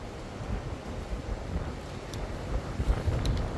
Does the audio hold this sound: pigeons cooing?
no